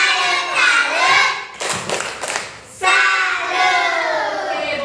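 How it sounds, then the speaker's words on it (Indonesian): A school class chants the 'tepuk salut' clapping cheer: a loud group of voices sings out, breaks into a burst of rhythmic hand claps near the middle, then resumes the sung chant. "Yuk, tepuk salut."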